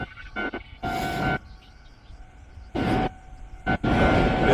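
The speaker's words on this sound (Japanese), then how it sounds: "急行電車がですね、今通過しております" A Hankyu Kyoto Line express bound for Kyoto-Kawaramachi passes near Awaji Station by level crossings, its wheels rumbling in loud bursts that rise and fall over several seconds, with a crossing bell ringing underneath.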